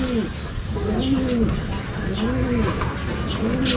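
Pigeons in a loft coo in a steady, repeating rhythm of soft rising-and-falling calls, several in a row, close by, with faint chirps and background noise.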